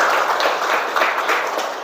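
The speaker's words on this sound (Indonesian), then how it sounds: "tepuk tangan dulu dong untuk kita semuanya" Students and teachers applaud in a school classroom in Indonesia, a dense, steady patter of many hands clapping together at close range, sustained evenly for a couple of seconds with no voices standing out.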